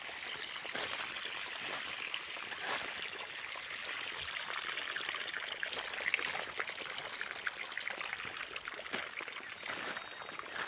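Irrigation water trickles and gurgles into a wheat field, a quiet continuous flow with small splashes, heard close by without speech.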